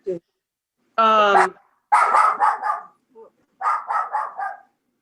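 Dogs bark in a few short bursts, loud and close, with a burst of rough harmonic noise and two later clusters of barks separated by silence; no talk over them.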